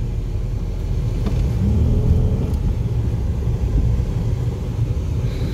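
A 1995 Pontiac Grand Prix pulls away from a start in second gear, a steady low engine rumble that swells slightly then holds, heard from inside the car without talk.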